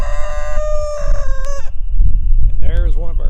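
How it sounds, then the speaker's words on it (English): A Barred Rock rooster crows loudly and close by on a homestead garden, one long drawn-out call that breaks off, followed by shorter clucking notes. "And there is one of our roosters,"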